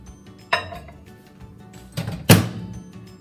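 A bowl holding an egg in water is set into a microwave, giving a few sharp clinks and clunks of dish against the oven, the last knock loudest and close.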